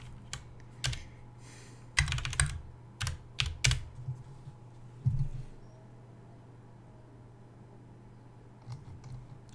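Typing on a computer keyboard during packet capture analysis: quiet, close clusters of key clicks in uneven bursts, tapering into sparse taps with long pauses.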